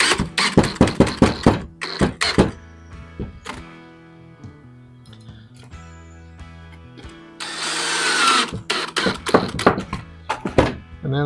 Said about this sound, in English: Sink these screws in here.